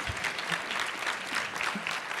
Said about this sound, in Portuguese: Um aplauso para ti, já desde agora.